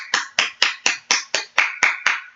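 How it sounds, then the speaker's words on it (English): Nine sharp hand claps in a steady, slightly slow rhythm, close and crisp with no talking over them, each clap ringing briefly before the next. "I'm gonna clap."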